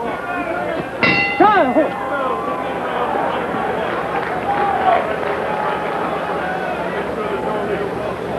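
A boxing bell clangs with a quick run of ringing strikes to end the round in a professional boxing match between Felix Trinidad and Roger Turner. The bell sounds over crowd noise and ongoing commentary.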